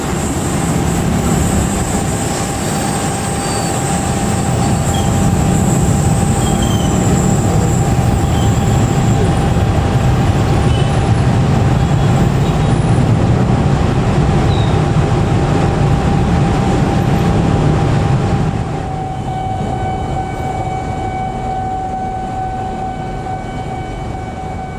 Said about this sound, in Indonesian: kereta api kalau lewat bunyinya gujus-gujus. Nah itu sebetulnya sambungan kereta teman-teman, bunyi sambungan kereta, sambungan rel kereta.